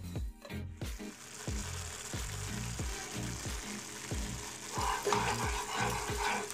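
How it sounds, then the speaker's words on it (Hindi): Sugar syrup cooking in a pan on a high flame for a one-string consistency while it is stirred repeatedly, giving a steady rhythmic scraping stir over a continuous close sizzle. "अब हम इसकी 1 तार की चाशनी बनाएंगे"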